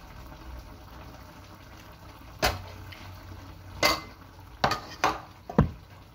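Carrots dropped into a cooking pot of pork liver stew, then stirred: a few sharp clatters and scrapes of a utensil against the pot, spaced irregularly over a low simmering background, close and fairly loud.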